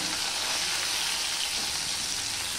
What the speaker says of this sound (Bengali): এবার নুন হলুদ দিয়ে যে মাখিয়ে রেখেছি মাছটা, সেটা আমি হালকা করে ভেজে নেব